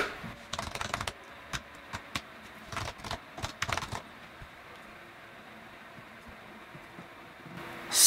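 Clustered keystrokes on a computer keyboard as a password is entered, quick bursts of close clicks over about four seconds, then near-silence with faint background hiss.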